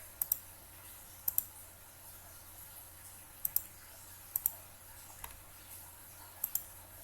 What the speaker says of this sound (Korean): 스페이스 키를 이렇게 누르고